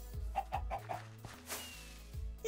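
Minecraft chicken clucking in a Block Hunt match, a run of short, bright clucks close by, then quiet pauses and a few more clucks near the end.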